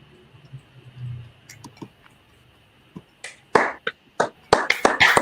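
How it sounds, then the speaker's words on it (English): A single person claps a few times close to the microphone, sharp separate claps that start sparse and then come in a quicker burst near the end, after quiet background with faint murmuring. "I had to unmute and clap for that."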